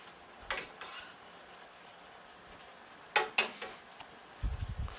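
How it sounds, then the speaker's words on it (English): Chicken cooking in a skillet with vegetables, a steady soft bubbling hiss with a few sharper crackling bursts near and at the end, no talking. "It looks like it's boiling."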